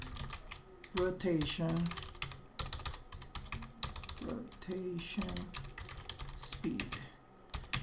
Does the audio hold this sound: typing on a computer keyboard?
yes